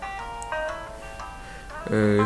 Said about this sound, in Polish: Ścieżka dźwiękowa jest dosyć fajna.